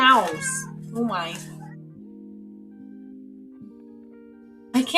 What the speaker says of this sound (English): But she's meowing a lot.